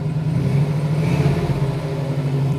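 A Jeep TJ's V8 running close by in a steady, deep idle hum with a slight swell of revs, heard alone without talk.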